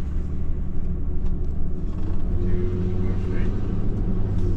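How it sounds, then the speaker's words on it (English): A car drives slowly through a residential housing subdivision with a steady low engine rumble and road noise throughout, with a faint voice mixed in. "it feels kind of weird driving through a housing subdivision"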